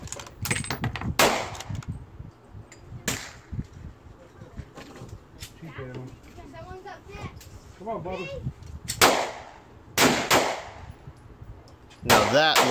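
Savage Axis lightweight bolt-action rifle firing outdoors, several sharp, loud cracks spaced seconds apart, with speech heard between the shots.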